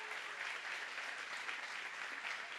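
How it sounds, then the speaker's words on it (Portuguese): Audience applause from a crowd at a book fair talk event, steady dense clapping sustained throughout, fairly loud and even with no pauses. "palmas para a Adriana"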